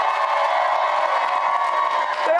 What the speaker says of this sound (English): They brought a busload in this cheering section